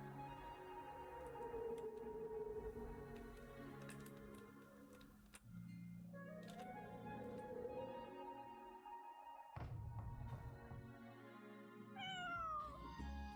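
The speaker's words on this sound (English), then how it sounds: "Kitty." Cat meowing in the Alterium Shift game, several soft rising meows over a droning ambient music bed with light ticking sounds, a couple of higher chirps near the end.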